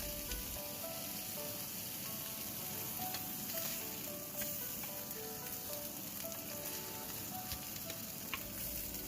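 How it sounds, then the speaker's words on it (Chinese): A salmon fillet, skin lightly browned, pan-fries after being turned, making a continuous close sizzle with faint scattered pops and small clicks, steady and unvoiced throughout. "就可以翻面煎另一面。"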